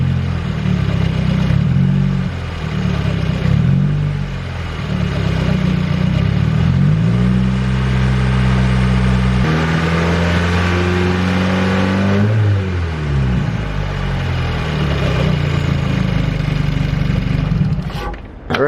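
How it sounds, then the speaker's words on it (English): A turbocharged Subaru Forester XT engine, freshly fitted with a Mishimoto oil cooler, revs repeatedly from idle, climbing and falling in loud, close bursts with a steady rumble between pulls and no talking. "I'm gonna give it a couple of revs, really get the oil kind of flowing through the system."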